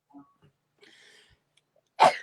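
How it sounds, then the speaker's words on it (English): A single sharp sneeze bursts out near the end, loud and close, after a few faint small noises. "Oh, it did make me sneeze."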